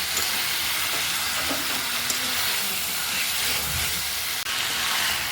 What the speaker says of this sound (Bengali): এখন আমি সবগুলো একসাথে আর একবার কষায় নেব।